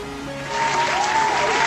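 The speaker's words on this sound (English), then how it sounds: "I'm going to see if my applause works" An applause sound effect: a crowd's applause swells in after a quiet moment and continues as a steady wash of clapping.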